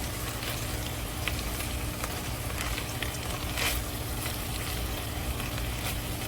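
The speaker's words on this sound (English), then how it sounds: "let's give this a stir" Hamburger macaroni cooking in a pot sizzles steadily and closely while a spoon stirs it, with faint scraping and clinks against the pot over a constant frying hiss.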